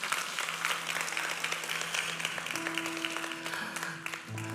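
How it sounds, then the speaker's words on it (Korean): A church congregation claps together through a Sunday worship service at a downtown campus, a dense, steady wash of hands with sustained keyboard notes ringing underneath. "박수 한번 쳐야 되는 거 아닙니까?"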